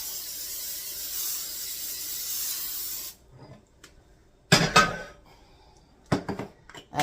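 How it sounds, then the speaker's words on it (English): A can of cooking spray hisses steadily onto an 8x8 baking pan for about three seconds, followed by clatter and knocks of the pan and kitchen items being handled nearby. "I'm going to spray my 8x8 pan really nice"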